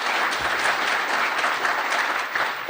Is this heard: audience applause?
yes